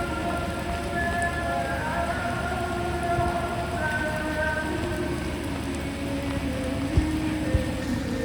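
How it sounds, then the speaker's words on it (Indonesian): Heavy stormy rain pours steadily at a train station, a dense, even hiss of drops on surfaces, with a couple of short dull thumps near the end and no voices. "Bener-bener hujan badai ya, deras banget teman-teman, dan petir-petir gitu."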